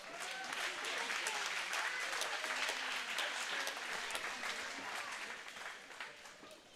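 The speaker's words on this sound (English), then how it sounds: "Please join me in one more round of applause for our seniors and their parents." Audience applause fills the gym at a North Dakota high school boys basketball game, Richland vs Sargent County, a steady dense clapping that holds loud throughout and tapers slightly near the end.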